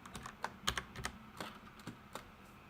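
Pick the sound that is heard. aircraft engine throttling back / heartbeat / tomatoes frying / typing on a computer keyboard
typing on a computer keyboard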